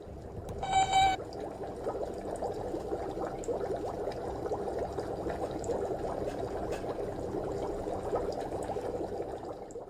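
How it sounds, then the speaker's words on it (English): Water heating in a pot for ramen, a soft continuous bubbling and hissing simmer at low level, with a brief brighter clink near the start and no speech. "I'm just boiling some water to make some ramen."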